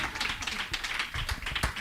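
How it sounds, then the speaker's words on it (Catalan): Audience applause for guests on a Catalan talk show, a close, steady patter of many hands clapping at once that fills the short moment with no voices over it. "un altre fortíssim aplaudiment pel Joan Gavàs, Jèssica Pulla"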